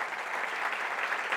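A church congregation claps together during a service, producing a brief, even burst of applause heard from a short distance.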